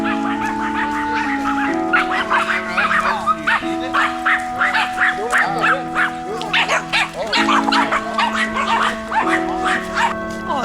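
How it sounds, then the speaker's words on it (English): Dogs bark repeatedly in quick, irregular bursts, fairly close, over a sustained musical tone playing in the background. "So much dog barking sound."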